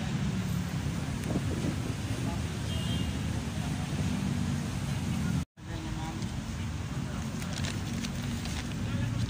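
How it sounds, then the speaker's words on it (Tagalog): Wind blows steadily across the microphone outdoors, a dense, rough roaring rush that stays loud and unbroken apart from one brief dropout midway. "Ang hangin, ang sarap."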